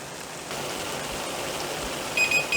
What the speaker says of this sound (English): So the brine is now boiling